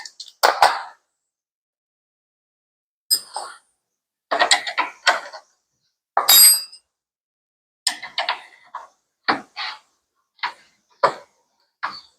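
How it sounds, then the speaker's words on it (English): A ratchet tightens bolts while a catch can is installed on a Harley performance touring bike with floorboards: about ten short, separate bursts of clicking and metallic ratcheting, close and fairly loud, with quiet pauses between them and no talk. "So what I'm going to do right now is get everything nice and tight."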